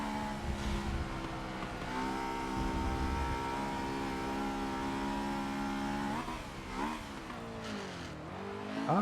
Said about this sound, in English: Oh, why is it making transmission noises?